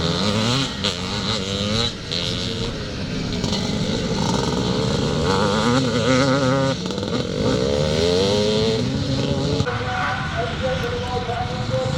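Classic Twinshock C Class motocross motorcycles racing at the Cumberland Grand National, engines loud and continuous with rising and falling revs as bikes pass, a commentator talking over the roar throughout.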